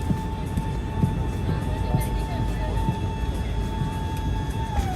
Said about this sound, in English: This is the iconic Airbus flap sound as they extend.